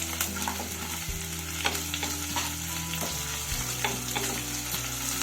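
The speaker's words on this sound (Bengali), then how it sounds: "পেঁয়াজটাকে খুব বেশি ভাজার দরকার নেই" Sliced onions fry and sizzle in hot oil in a pan while being stirred for a South Indian sambar, a steady close crackle with occasional scraping of the spatula.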